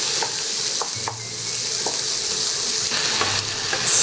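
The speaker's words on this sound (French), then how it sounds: "On laisse mijoter ça." Corn and tomatoes simmer and sizzle in a pan, a steady bright hiss broken by occasional soft stirring clicks and scrapes, close and fairly loud with no voices.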